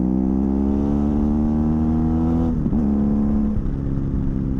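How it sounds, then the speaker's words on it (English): A BMW F800GS motorcycle engine drones loudly and steadily, its pitch rising slowly as it accelerates, then briefly dips and wavers as it shifts gear. "Hopefully you guys got a little bit more of a exhaust note through there."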